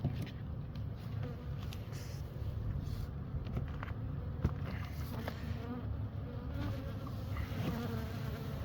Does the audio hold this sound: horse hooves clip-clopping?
no